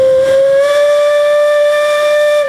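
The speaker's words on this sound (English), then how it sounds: "A little whistle on a big engine" A steam whistle on an 1889 10 horsepower Advance engine, owned by the Heffelmeyer family, blows one loud, sustained, steady tone at a parade. The tone rides over a faint hiss of steam and lasts the whole moment without a break.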